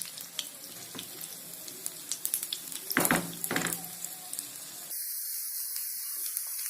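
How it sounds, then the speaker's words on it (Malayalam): Oil poured over fish frying on a tawa pan gives a bright hissing sizzle with a louder burst of spattering midway, then a steadier high hiss near the end. "ഇനി കുറച്ച് എണ്ണ ഇതിന്റെ മേലെ ഒഴിച്ചു കൊടുക്കാം"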